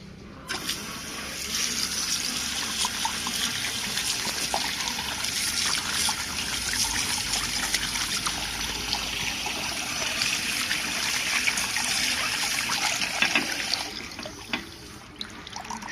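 Tap water runs steadily into a sink while vegetables are rinsed under it, a continuous close splashing trickle lasting most of the stretch before easing off near the end.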